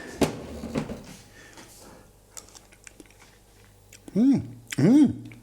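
Someone tastes a simmering sauce for bratwurst shashlik, with soft close mouth clicks and chewing smacks, then a couple of voiced, appreciative hums near the end.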